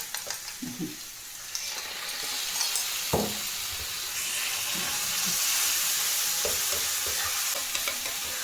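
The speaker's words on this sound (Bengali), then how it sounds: "ভাজা ভাজা করতে থাকবো।" Flat beans (shim) fry and sizzle in a pan for a Bengali winter recipe, a steady hiss of frying with occasional stirring clatter and scrapes, close and fairly loud throughout.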